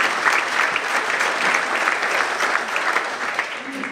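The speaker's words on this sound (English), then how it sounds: "Big round of applause" Steady applause from an audience honoring volunteers at a Virginia congressional candidate forum, many hands clapping evenly at moderate loudness throughout, with faint murmurs of voices beneath.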